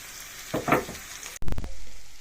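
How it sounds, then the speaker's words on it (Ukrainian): Onion frying with mushrooms and potatoes in a pan: a brief close sizzle with short bursts of stirring and a sharp clatter, then the frying hiss continuing. "піджарюємо разом з грибочками цибульку до нашої страви"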